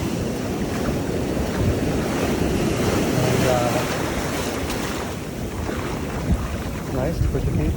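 Ocean waves rolling onto a beach, continuous close surf wash with wind noise against the microphone, swelling and easing over several seconds.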